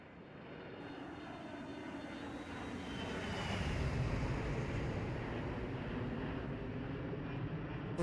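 Boeing 737-300 jet engines in the IXEG 737 flight simulator add-on, heard as a steady, broad roar that swells slightly midway and holds constant, with no talking.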